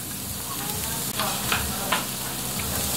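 Chopped garlic and onion fry in a hot pan, a constant crackling sizzle with a few sharper spatters and scrapes of stirring, close up and steady, with no speech.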